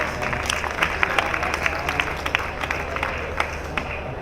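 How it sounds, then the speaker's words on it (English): A conference audience at a panel on a tech event stage gives scattered, moderate applause, steady clapping from a crowd in a hall that is neither loud nor faint. "this is a moment where you start clapping"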